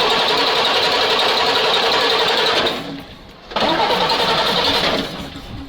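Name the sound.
Praga V3S 6x6 truck engine starting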